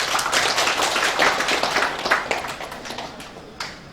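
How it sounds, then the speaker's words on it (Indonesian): Scattered clapping from a crowd applauding the Bhayangkari wives at a Brimob police ceremony in Southeast Sulawesi, loose uneven claps that thin out and fade toward the end. "ya tepuk tangan dulu untuk Bayangkari"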